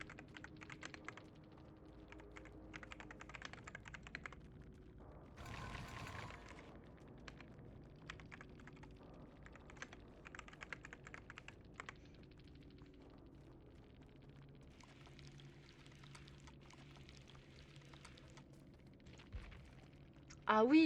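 Computer keyboard typing during a Dead by Daylight livestream, heard as quiet, irregular bursts of clicky keystrokes over a low background hum, with a louder thump near the end.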